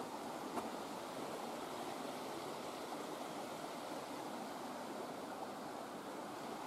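A high creek flowing steadily where it splits into two channels beside a dirt road, a continuous broadband rush of water, close and even, with no voices.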